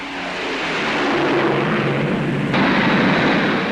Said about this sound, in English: Then there was the Avro Shackleton, the largest military aircraft in the show, a long-range maritime reconnaissance bomber.